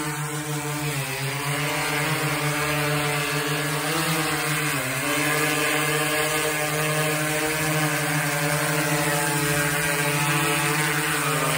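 A DJI drone spins up its motors and takes off, giving a steady, loud, close buzzing whine with layered harmonic tones that dip and rise slightly as it lifts and hovers throughout.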